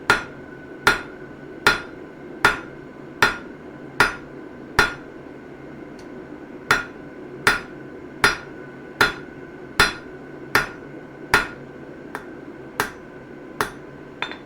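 Steel for a punch and chisel set is forged with a hammer, giving about eighteen sharp ringing blows at a slow even pace with a brief pause partway through, close and clear with no talk.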